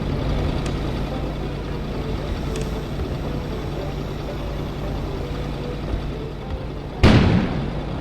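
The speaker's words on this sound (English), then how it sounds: "An explosion suddenly occurred outside." A single sudden explosion outside in the snowy town of the video game Kona, a heavy boom near the end that rolls off after a low steady ambient rumble.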